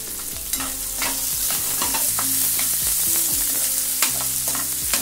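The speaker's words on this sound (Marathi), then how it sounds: "आता याला चांगलं ब्राउन होतपर्यंत परतून घ्यायचा कांदा." Chopped garlic and onion fry in hot oil, a dense continuous sizzle close by with repeated scraping stirs of a spoon against the pan throughout, and no voices.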